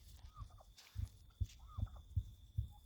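Farm turkeys that seem unwell, soon due for medicine, give soft, quiet clucks and short rising calls over a steady series of low, rhythmic thumps, heard close in a calm setting.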